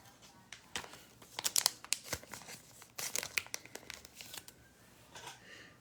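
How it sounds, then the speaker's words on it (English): Plastic sleeves crinkle and rustle in irregular bursts as trading cards are slid into them, close up, in two clusters of sharp crackles with quiet gaps between. "I'm just going to sleeve up a couple of these cards here"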